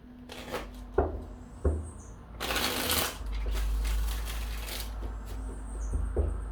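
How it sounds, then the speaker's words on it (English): Tarot cards shuffled by hand in quick riffling bursts, the longest a sustained flutter in the middle, close and clear with soft handling taps around it. "going to give this another 5 shuffles"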